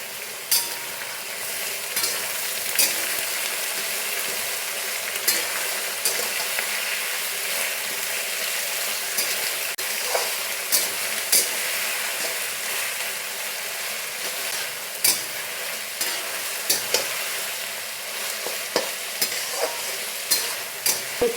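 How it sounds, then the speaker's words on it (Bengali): Onions fry in oil with two bay leaves for mutton kosha, a constant close sizzle broken by frequent scraping clicks of a spoon stirring the pan, with no voices. "খয়েরি রং আসা পর্যন্ত ভাজবো।"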